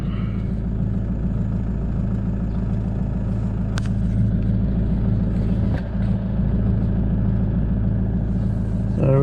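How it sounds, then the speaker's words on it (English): Car engine idling steadily just after being started, a continuous low rumble close by with a couple of faint clicks over it. "I just started the car up."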